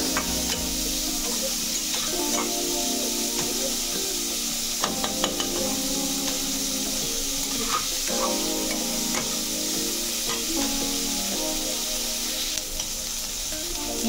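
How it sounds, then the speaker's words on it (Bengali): Chopped onions fry and are stirred in a pan for yellow moong dal, giving a steady close sizzle throughout with occasional soft clicks and scrapes from the stirring spoon. "পেঁয়াজটা হালকা নাড়াচাড়া করে কালারটা চেঞ্জ হয়ে যাওয়া পর্যন্ত অপেক্ষা করব।"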